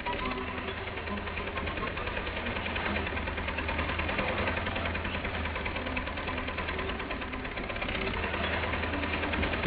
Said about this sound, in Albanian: Të kujton luturima e këtij traktori